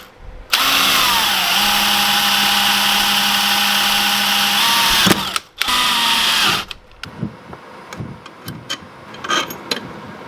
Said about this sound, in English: what we're going to essentially do is drill a hole